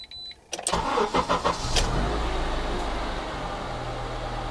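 A car engine cranks with several rapid stuttering turns after a faint electronic beep, then catches and settles into a steady, fairly loud idle.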